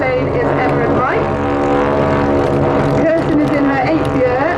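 Display propeller planes, one red and one blue, drone loudly overhead at the Duxford summer airshow, their engine tones sliding up and down as they manoeuvre, with a commentator talking over them.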